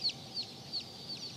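A Blue Sumatra chicken gives four soft, evenly spaced high clucks, faint over a quiet background hiss with no talking.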